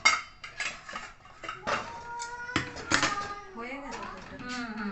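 A metal lid clatters and scrapes onto a cooking pot on a home stove, with several ringing metallic knocks and rattles, close up, while someone talks over it.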